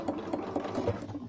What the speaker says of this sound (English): I'm just sewing around that arc that we just drew from the template, and backstitch a couple